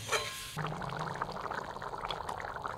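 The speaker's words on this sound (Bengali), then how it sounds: "এবার বাটিতে যে মশলাগুলো গুলে রেখেছি সেটা দিচ্ছি" Spice paste mixed in a bowl is poured into a hot pan while cooking ghugni: a short wet pour, then a steady hiss and bubbling sizzle that continues close up with no talking.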